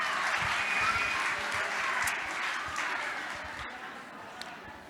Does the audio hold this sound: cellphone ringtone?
no